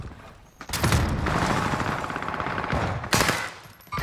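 Rapid gunfire in a Call of Duty match on Rebirth Island, loud and close: a dense, sustained burst of shots lasting about two seconds, then a second sharp volley near the end.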